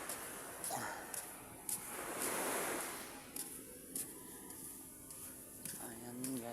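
Ocean waves washing onto a beach in Santa Cruz, surging and receding over faint wind noise, soft and somewhat distant, with brief taps of handling noise.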